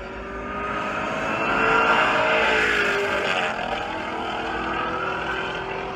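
A 2022 Cadillac CT5 Blackwing's engine and exhaust roar steadily on a street in Beverly Hills, swelling louder around the middle and then settling into a strong, sustained drone.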